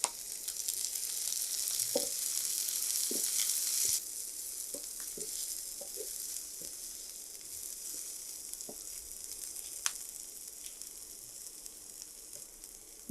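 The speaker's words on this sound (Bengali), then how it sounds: "পেঁয়াজটা আমি খুব বেশি ভাজবো না" Chopped onions and green chillies frying in oil in a pan for a Cox's Bazar hotel-style tomato bhorta: a steady bright sizzle, louder at first and then settling, with occasional soft stirring taps and scrapes.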